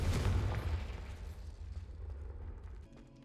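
A Confringo fire spell blasts in Hogwarts Legacy, a loud, deep burst at the start that rumbles and fades over a few seconds.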